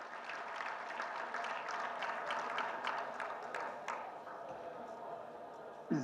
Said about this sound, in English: Give her another round of applause one more time